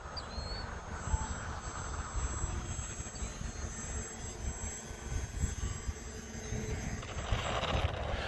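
A HobbyZone Aeroscout S 1.1m RC airplane flies at low throttle past parking blocks, its steady electric motor buzz continuing throughout over outdoor wind noise, rising slightly near the end.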